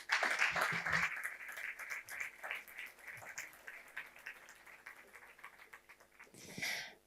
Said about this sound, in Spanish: Vamos a darle un fuerte aplauso a Nazaret